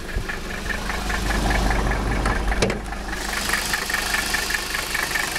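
A Mercedes 300SD diesel engine, set up with a vegetable oil fuel system, idles steadily up close with a low, continuous rumble and faint rhythmic knocking, without talk.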